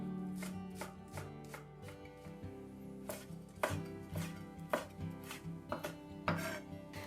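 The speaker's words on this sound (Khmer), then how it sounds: "បន្ទាប់មកទៀតត្រូវហាន់ស្លឹកខ្ទឹមនិងម្ទេសមួយចំនួនតាមចំណង់ចំណូលចិត្តរបស់បងប្អូន" A knife chops green onion and chili on a cutting board for mackerel fried rice, sharp close knocks coming in quick irregular runs, with a faint hum underneath.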